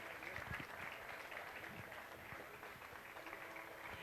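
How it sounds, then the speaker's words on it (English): Faint, distant applause from a Hindustani bansuri concert audience at Yamini 2016, honouring tabla player Pandit Vijay Ghate. It is a low, continuous patter of many hands throughout. "A huge round of applause for Pandit Vijay Ghate."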